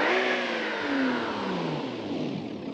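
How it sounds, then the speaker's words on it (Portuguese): A Nissan Skyline R34 engine in BeamNG.Drive revs up and winds down, a strained, odd-sounding whine whose pitch falls smoothly across a few seconds, heard alone. "tá muito estranho o barulho do motor"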